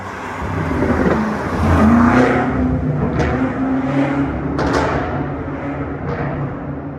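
BMW M8 Competition tuned past 800 hp with an Akrapovic exhaust, engine droning loud and steady, with several sharp exhaust pops and crackles cutting through near the end.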